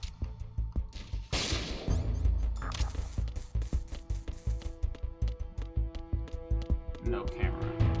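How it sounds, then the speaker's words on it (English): A gunshot fired at a control box in Metal Gear Solid 2: a sharp crack and burst amid busy rhythmic game sounds, followed by repeated clicking and ticking. "Screw that control box. Might be a waste of a bullet,"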